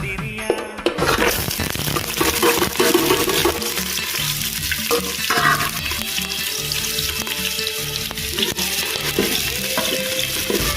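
Lemongrass, cashews, raisins and half an onion are stirred in a hot pan for ghee rice, a loud steady sizzle and frying crackle with scraping spoon strokes throughout, no talking.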